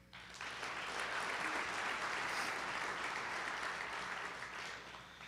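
An audience gives a round of applause for event sponsors, a dense, steady burst of clapping that swells in quickly, holds evenly for several seconds and tapers off slightly at the end.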